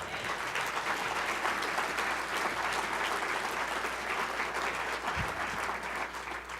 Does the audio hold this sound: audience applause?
yes